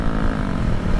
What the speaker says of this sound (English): A little low RPM. Open throttle, full throttle.